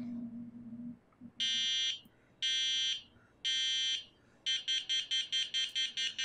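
Loud electronic warning beeps from a robot's proximity sensor sound in long bursts, then speed up into rapid repeated pulses as the robot gets closer, after a low hum at the start.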